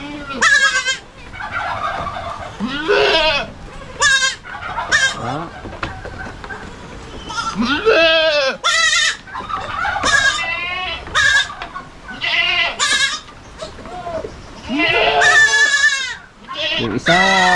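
Goats on a small farm bleat repeatedly in loud, wavering calls, near and far, mixed with clucking chickens, while a person talks in the background.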